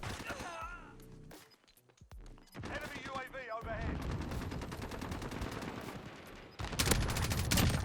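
Rapid gunfire in Call of Duty Modern Warfare, bursts of loud sharp pistol and rifle shots with a brief lull in between, near and dense, mixed with game effects.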